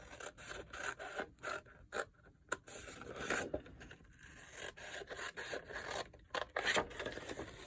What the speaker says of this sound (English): Then I'm going to cut up from the bottom to make my tabs.